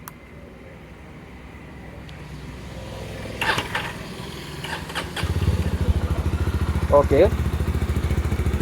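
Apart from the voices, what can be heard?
Jawa 42 FJ 350 motorcycle engine starting and exhaust sound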